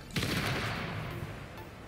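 Missile fire in the space game Space Engineers: a loud burst of launches and blasts opens the clip, followed by a sustained roaring rumble that fades slightly, with another sharp hit near the end.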